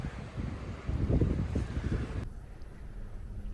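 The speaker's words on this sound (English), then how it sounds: "A little bit breezy." Gusty wind buffeting the microphone outdoors beside Rutland Water during a walk, a loud low rumble that swells and then drops abruptly to a softer breeze, with no talk.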